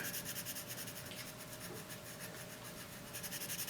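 Graphite pencil shading back and forth on paper, a faint soft rhythmic rubbing and scratching, close and steady, with no one talking.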